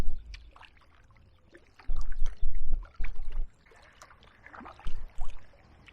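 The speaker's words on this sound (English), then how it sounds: "we'll crack on with the paddle upstream to Teston Lock" A kayak paddled upstream on the River Medway, with bursts of splashing and dripping water as the blade dips, several strokes in irregular clusters, close by against a quiet river background.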